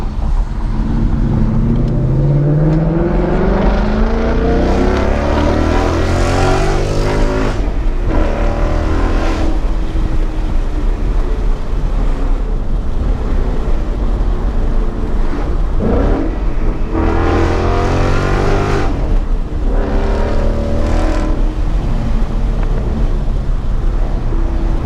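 A 2019 Mustang GT Premium with a Corsa Xtreme cat-back exhaust pulls hard with the windows down, its loud V8 roar climbing through the revs, dropping briefly at each gear change, then rising again, close and continuous.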